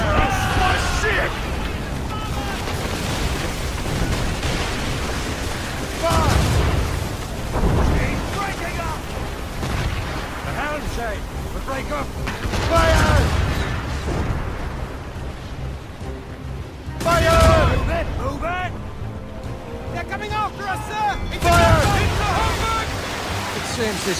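Ship cannons firing in Assassin's Creed Rogue during a naval battle, with heavy booming blasts recurring every few seconds amid rumbling sea and battle noise, while crew voices shout over them.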